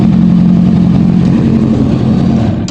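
A Kawasaki Ninja ZX-10R sport bike, its fairings removed during a clutch cable replacement, runs at a steady, loud idle up close, with a constant low engine hum and no talking.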